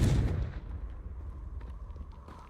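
A Confringo blasting spell explodes in Hogwarts Legacy: one sharp, loud booming blast at the start that decays into a rumbling tail with faint crackles.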